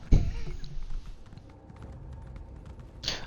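A slow horse clip-clops along in the Elder Scrolls Online, its hooves striking in a soft, steady rhythm, fairly quiet and alone in the scene.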